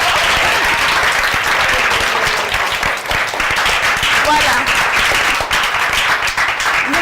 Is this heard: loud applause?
yes